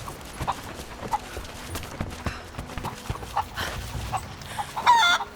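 Chickens clucking in the video game Rise of the Tomb Raider, scattered short clucks and one brief squawk near the end, moderately close over soft game ambience and light footstep-like taps.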